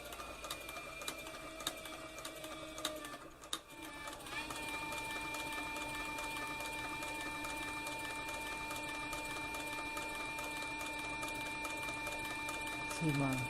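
Cowboy CB4500 heavy-duty triple-feed sewing machine stitching a leather flank strap while its bobbin winder runs, a steady close mechanical whir with fast regular stitching clatter, continuous after a brief uneven start.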